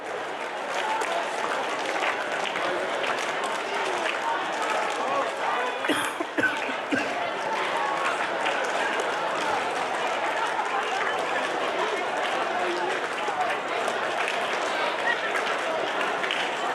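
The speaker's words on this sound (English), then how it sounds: "You with your partner, clap, snap, and stomp." A conference audience, working in pairs, claps, snaps and stomps in a dense, continuous wash of crowd noise with chatter and voices mixed in throughout.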